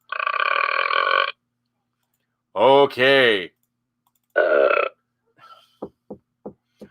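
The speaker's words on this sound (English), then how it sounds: "First with the farting files, now with the burping files." Burping sound effects, three loud separate belches with long gaps between them, followed by a few short sharp clicks; a voice speaks briefly.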